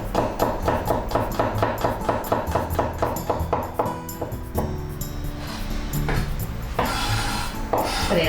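A knife thinly slices garlic on a cutting board, producing a fast, steady run of close, crisp taps that slows and breaks into scattered knocks and scraping toward the end.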